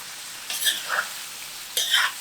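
Beef for Rize kavurması sizzles steadily in a hot pan while a utensil stirs it in two distinct bursts of scraping and clatter over the constant frying hiss.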